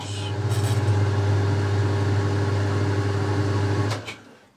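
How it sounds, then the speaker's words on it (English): A metal lathe turning a piece of steel at around 550 RPM hums steadily with a low, even drone, close and constant, then winds down toward the end. "So get a piece of steel, put that in the lathe."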